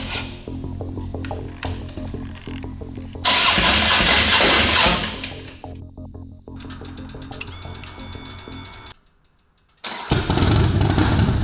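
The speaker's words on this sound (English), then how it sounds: "Finally got the bike kicked over." A motorcycle kicked over and firing up, with clatter and bursts of engine noise that cut out, a brief silent gap, then the engine catching again, loud and rough.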